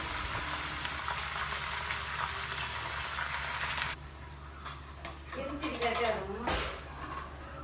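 Finely chopped cabbage, about three cups, sizzles in hot oil tempered with cinnamon and curry leaves, a dense frying hiss that drops sharply partway through, followed by a few clatters of a utensil against the pan.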